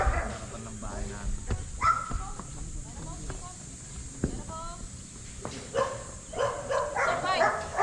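A dog whimpers and yips in short, high bursts scattered across the clip, with people talking nearby and thumps from movement.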